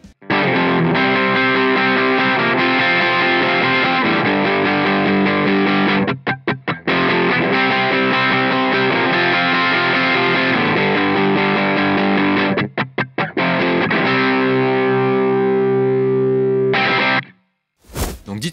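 A heavily distorted electric guitar, gain high, bass cut, mids and treble boosted, plays sustained high-gain riffs, thick and aggressive, with a few brief choppy stops, ending in short silence.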